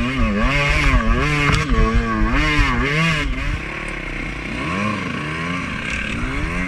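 A dirt bike engine in first gear on a rocky singletrack trail revs repeatedly, rising and falling in pitch with loud, close throttle blips and a rattly drone, with no talk.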